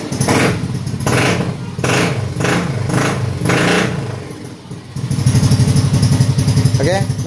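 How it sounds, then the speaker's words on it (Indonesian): A Yamaha Mio M3 125 scooter engine with a hard-starting fault turns over in repeated pulsing bursts, then settles into a steady, close idle. "motornya sudah dalam keadaan hidup, langsannya sudah normal kembali"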